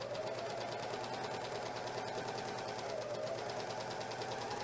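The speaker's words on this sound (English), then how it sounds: "So I'm going to start to sew, and when I get to about here, you're going to see me start to pivot my fabric around." A Janome Magnolia 7034D serger stitches fabric with a fast, even mechanical whir and rapid rhythmic ticking, close and steady with no talk.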